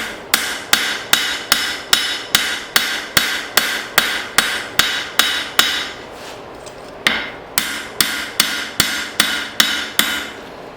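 A hammer pounds a hot steel blade forged from an old file, loud, evenly spaced ringing blows in a steady rhythm, pausing briefly midway before the strikes resume at the same pace.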